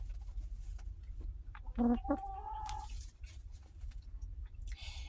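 A hen clucks and chatters nearby in a few short bursts over a low background rumble, with faint rustling around it.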